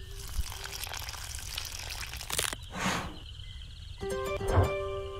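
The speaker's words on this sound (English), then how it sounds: "I can water the seeds." Seeds are watered in an adventure video game: short splashing bursts of water over soft ambient game tones, with one swell in the middle and another near the end.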